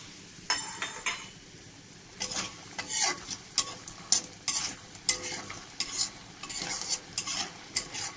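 Lentil nuggets (dal bori) frying in a pan after fish, with a faint steady sizzle and repeated scraping stirs and light clinks of a utensil against the pan.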